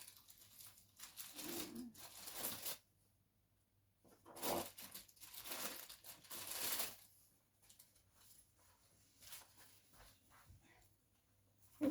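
Paper envelope being pulled out and handled while crafting a card, soft crinkling and rustling in several short bursts separated by quiet pauses, close and faint.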